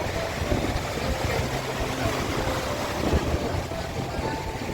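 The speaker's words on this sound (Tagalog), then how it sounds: "Mahangin lang." Steady wind rushes and buffets the microphone, a broad constant roar.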